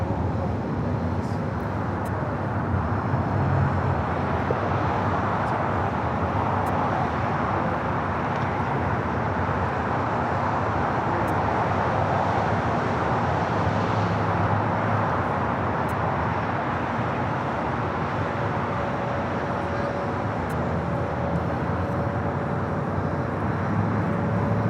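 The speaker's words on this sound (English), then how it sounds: "Korean Air Flight 18 taking off to Seoul on the A380." Korean Air Airbus A380 taking off from LAX bound for Seoul, a loud, sustained broadband jet roar that swells slightly and holds steady, heard from a distance over airport ambience.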